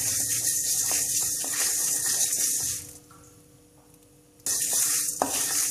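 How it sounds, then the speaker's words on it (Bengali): Spices for a green chili pickle stirred and dry-fried in a pan on a low flame, a close steady sizzle with stirring scrapes that drops to near quiet for over a second before the frying noise returns; no voices. "চুলো কম তপে রেখে নেড়ে চেড়ে মশলা মুসমুসে করে ভেজে নিতে হবে"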